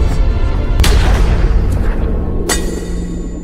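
A gunshot rings out as a policeman is shot in an action film, two sharp loud cracks over a heavy, booming low rumble.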